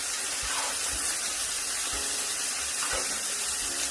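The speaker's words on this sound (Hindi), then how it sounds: "इसके अंदर मैं 1 टेबल स्पून चिली फ्लेक्स लेने हैं, जस्ट 1 टेबल स्पून। तो स्टीर करूंगी मैं।" Chili flakes being stirred into a sizzling chicken pepper steak sauce, a steady close hiss of frying with faint, irregular soft knocks from the stirring.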